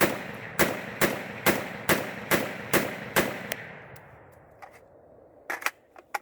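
An AR-10 pistol fires mil-surp ball ammunition outdoors, eight sharp, loud shots in a steady rhythm about half a second apart, then fainter clicks and clatter after the string ends.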